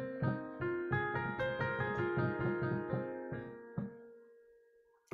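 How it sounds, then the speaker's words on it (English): Raga Malkauns is played as a scale on a tonal melodic instrument, a run of about a dozen distinct, close notes that rise and then ring out to a long decay, without speech. "one is called the Rag Malkons, and it sounds like this."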